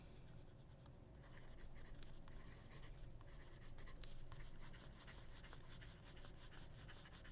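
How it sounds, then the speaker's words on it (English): A pen scratches quickly and continuously across paper in fast writing, the sound faint but steady throughout. "Fast writing."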